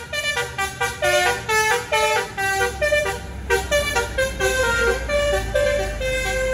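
Musical telolet horn of a Jawas Go bus on the Pangandaran route, playing a rapid run of tooting melodic notes that repeats in quick phrases, loud and close, over a low engine rumble that grows toward the end.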